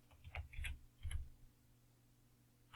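Soft, sparse computer keyboard keystrokes while entering an equation in Mathcad, a few quick clicks in two short bursts followed by a pause and one more tap, quiet and close.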